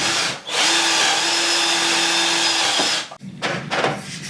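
Power drill with a blunt bit boring into timber while building a fitted wardrobe, a loud steady whine with a sustained tone for about two and a half seconds, then stopping, followed by brief handling clatter.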